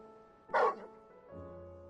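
A single dog bark in Final Fantasy XVI, one short loud yelp followed by a faint lower tone, alone without talk.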